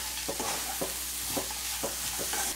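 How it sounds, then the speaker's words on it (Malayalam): Cabbage and vegetables sautéing in an open pan, a soft continuous sizzle broken by regular scraping stirs of a spoon about every half second, close and without speech. "തുറന്ന് വെച്ചിട്ട് തന്നെ നമുക്കിതൊന്ന് വഴറ്റിയെടുക്കാം കേട്ടോ ഇടയ്ക്കൊന്ന് ഇളക്കി കൊടുത്താൽ മതി"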